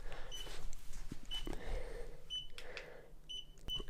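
Several short, high electronic beeps chirp at irregular intervals over faint low rumbling and handling noise, without speech.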